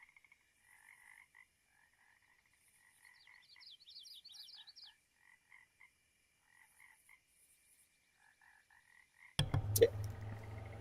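Frogs croaking in short repeated calls, some sustained trills and a quick rattling series, fairly faint and spaced out over silence, before a sudden loud burst of noise at the end.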